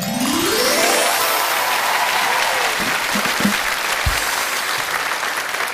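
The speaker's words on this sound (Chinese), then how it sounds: "今天现场的掌声一听都不一样，很有气势，雷鸣般的掌声" A big studio audience at a televised youth lecture show gives strong, thunderous applause, a dense and loud wash of clapping that holds steady across the whole stretch.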